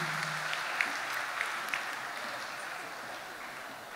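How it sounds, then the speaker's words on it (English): Audience applause at an Assyrian New Year festival in Sydney, a steady wash of many hands clapping from a crowd at moderate distance, fairly soft and even, fading slightly toward the end, with a faint voice at the very start. "A round of applause, please."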